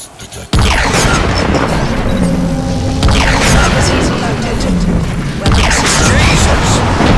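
Ceph alien weapon fired in Crysis 3, heavy booming blasts with bursts at the start and again around three and five and a half seconds, loud and close over dense game noise, with voices talking over it.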